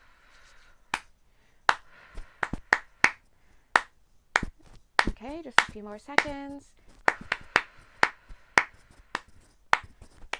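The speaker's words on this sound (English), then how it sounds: "Stay focused to the hand claps." Sharp hand claps ring out one at a time in a loose, irregular rhythm through an energy healing session, with a brief spoken voice between them.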